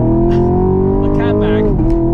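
A Camaro SS with a 6.2 liter V8 and Corsa Extreme catback exhaust rumbles loudly and steadily at a near idle, the deep drone holding even before dipping slightly toward the end, with talk over it.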